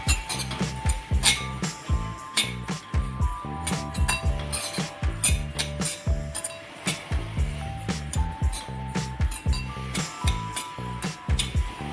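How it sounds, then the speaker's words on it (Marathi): Mustard seeds roasting in a pan for mango pickle crackle and clink in a steady run of sharp, closely spaced pops and taps, fairly near and continuous over a low background hum. "ते राई गोळे भाजले ना की थोडे असे आवाज येतो"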